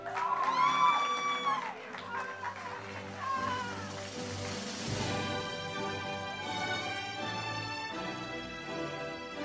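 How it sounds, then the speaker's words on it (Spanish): Crowd applause and cheering for a graduating student at a school graduation ceremony at Escuela Trina Padilla in Arecibo, Puerto Rico, full and steady across the clip with music and voices mixed in. "Un fuerte aplauso para Tanicha."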